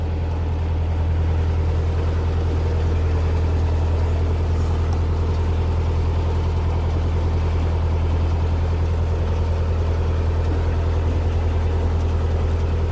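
A canal narrowboat's engine chugs steadily and loudly throughout, a constant low drone with no voices over it.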